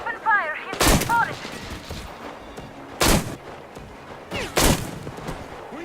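Gunfire in the video game Metro Exodus: three loud, close bursts of shots spaced a couple of seconds apart over a low background, with brief voices heard at the start.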